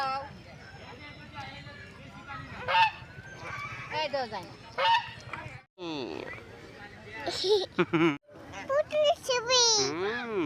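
Geese honk repeatedly near at hand in a lively outdoor setting, their nasal calls coming in bursts that overlap with children talking.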